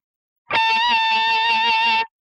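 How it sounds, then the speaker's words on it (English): A single sustained electric guitar note picked with the very edge of the pick for extra bite, ringing clean and loud for about a second and a half with bright harmonics and a light effects sheen, then stopping abruptly. "I'm holding the very edge of the pick and getting that bite sound for the very first note"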